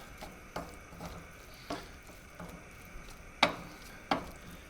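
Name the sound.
sweet soy sauce heating and bubbling in a hot pan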